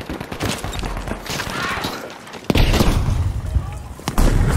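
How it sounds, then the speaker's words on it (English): A grenade blast and scattered gunfire in a Battlefield V battle, with loud dense bursts and a sharp boom around the midpoint, followed by more heavy impacts under continuous battlefield noise. "Grenade!"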